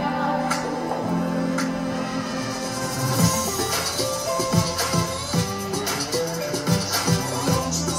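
Semi-tropical music track with a bouncy, plucked rhythmic groove and light percussion, playing at moderate volume with no talking over it.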